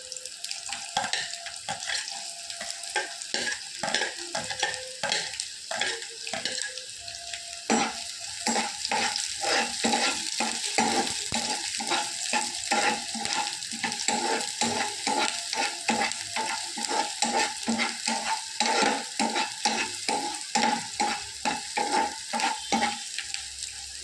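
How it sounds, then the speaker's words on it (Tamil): Onions sizzle and crackle steadily in a hot pan while a utensil stirs and scrapes in regular strokes, with no talking. "வெங்காயம் நல்லா வதங்கணும்."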